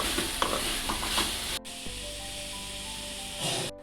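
Salem mango pieces sauté in coconut oil with a lively sizzle and stirring scrapes, loud at first, then cut off to a quieter hum before the frying noise returns briefly at the end.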